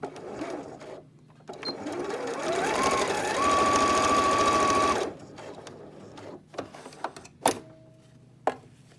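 A sewing machine runs a steady, loud mechanical whir for a couple of seconds as it stitches. Scattered clicks, thumps and handling noises follow once the motor stops.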